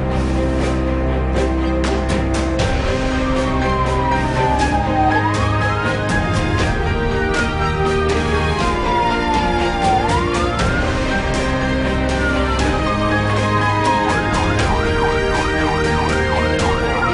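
Ambulance siren wailing through congested traffic, its rising and falling sweeps repeating steadily and loud over a constant low rumble of engines, with no talk.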